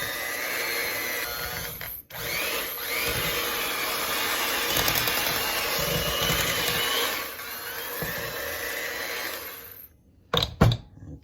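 An electric mixer whirs steadily on medium, beating sugar into pound cake batter, a loud continuous motor drone that cuts out briefly near the start, then stops before a few clunks at the end.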